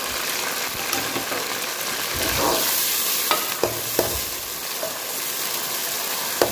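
Onions and spices fry in a pan with a loud, steady sizzle, broken by a few sharp clinks and scrapes from stirring.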